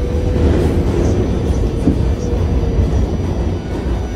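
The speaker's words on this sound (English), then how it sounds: "The train is there." A train in New York rumbles loudly nearby with a dense, continuous roar and faint rail clatter, steady from start to finish with no speech.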